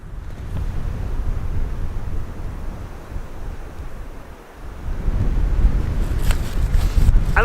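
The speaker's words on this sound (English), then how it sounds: "It's a little windy" Steady wind blows across an open outdoor landscape on a hike in Nova Scotia, a broad low rumble of gusts buffeting the microphone, easing briefly midway and then strengthening again.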